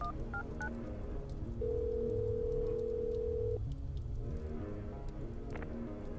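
A telephone is dialed in the game Little Red Lie: a few quick keypad tones, then a long steady dial-type tone, all over a soft rain-like background hiss.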